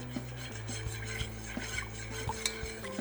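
A spoon stirring sugar syrup as it simmers in a pot, with soft scraping rubs and light clinks against the pot recurring steadily at close range over a quiet bubbling background.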